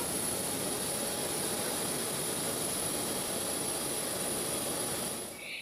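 A jet aircraft's engines roar at an airport on arrival in Thailand, a steady, fairly faint broadband whine that holds throughout and fades slightly at the end, with no voices.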